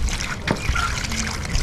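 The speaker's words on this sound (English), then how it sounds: "We now add water to it." Water trickles and splashes as it is poured into a traditional Ghanaian omo saabo snack mixture, a close, fairly quiet dribble lasting under two seconds.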